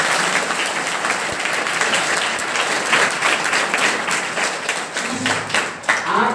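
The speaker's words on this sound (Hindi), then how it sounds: "आप सब ताली बजाएं और सभी बच्चों का स्वागत पुनः एक बार सभी की ओर से ताली बजाकर करें।" Audience applause welcoming children at a yoga, de-addiction and women's awakening event held by a Kabir service organisation in Devpur, with dense, steady clapping across the whole stretch.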